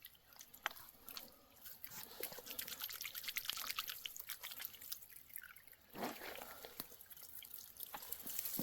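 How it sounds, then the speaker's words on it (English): Natural spring water trickling from a 1-inch pipe at a newly installed spring box in Alaska, a faint, continuous dribble with scattered drips and splashes and a brief louder gush near the end. "we should start getting water out the 1-inch pipe down the other end"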